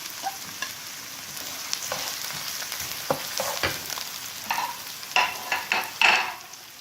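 Carrots, capsicum and green chili fry in a pan, a steady close sizzle broken by scraping stirs and clinks that grow sharper toward the end; no talking.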